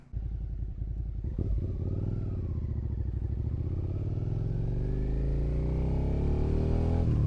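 A Suzuki SV650 third-generation motorcycle rides through city streets, its engine droning loudly and close, rising steadily in pitch as it accelerates through a long pull.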